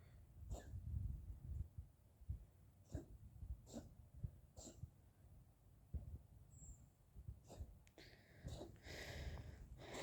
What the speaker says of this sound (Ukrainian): Бач, попорхнулася бідна, чхає.